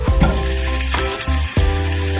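Two pounds of ground chuck hamburger meat frying in a pan, a loud close sizzle with repeated stirring scrapes and bursts of spatter roughly every half second, no voices.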